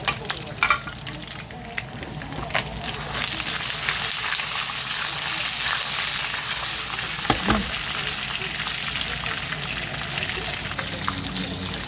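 Garlic peanuts with chili frying in a pan give a steady, close sizzle and crackle that runs throughout, with occasional stirring and a few brief louder clatters.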